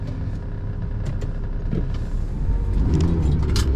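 A manual-clutch car pulls away uphill in a spirited takeoff, its engine a close, loud, steady rumble that rises slightly toward the end, with no talking.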